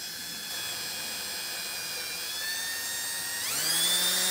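A high-pitched drill whine from a 9/64-inch bit drilling out a rivet on a diecast car base holds steady, then climbs sharply as the bit spins up near the end, loud and close.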